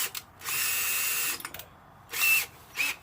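A 13mm drill bit bores through the plastic handle of a homemade water-fed window-cleaning pole: one long, steady power-drill whine, then two shorter bursts, loud and close with nothing else around.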